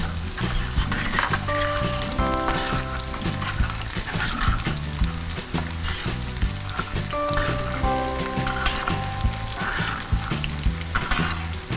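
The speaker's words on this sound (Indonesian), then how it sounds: "bawang merah yang sudah diiris tipis, digoreng sampai wangi." Thinly sliced shallots fry in oil for a balado chili sauce for dendeng, giving a loud, dense, continuous close sizzle with stirring scrapes throughout.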